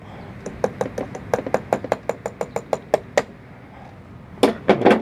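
Repeated knocking as a part is tapped loose during repair of a Mitsubishi wall-mounted fan, a quick run of about a dozen sharp, even taps followed after a pause by a few louder, heavier knocks.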